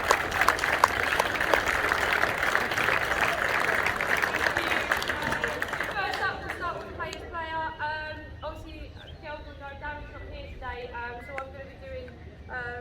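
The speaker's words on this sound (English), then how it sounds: "Little clap for Beth." An audience at a youth football academy presentation day claps steadily for several seconds, then the applause fades as a person begins speaking.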